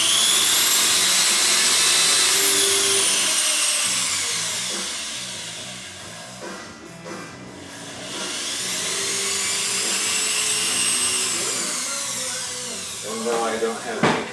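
A powerful heavy-duty cordless drill whines at high speed, revving up and winding down twice in long runs, with a brief clatter at the end.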